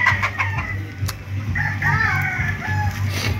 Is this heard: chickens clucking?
yes